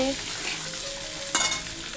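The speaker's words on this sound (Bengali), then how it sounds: "ডিম ভাজা হচ্ছে" Eggs fry in a pan with a steady close sizzle and hiss, a brief utensil clink partway through.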